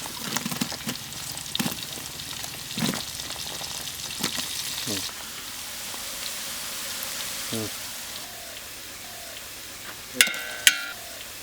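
Onions and spices frying in hot oil for a fish curry: a steady crackling sizzle with stirring clatters and scrapes, a few sharp utensil knocks toward the end, and someone speaking at times.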